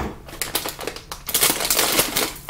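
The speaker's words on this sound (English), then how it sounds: "scissors for this one." Scissors cut open a crinkly plastic snack package from a subscription box, with a close-up burst of sharp snipping and crackling plastic that grows louder and denser partway through.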